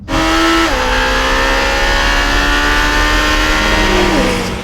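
Audi R8 naturally aspirated high-revving engine, loud and close, holding a steady high rev with clear harmonic tones that dip briefly near the start and again near the end before settling, heard alone without talk.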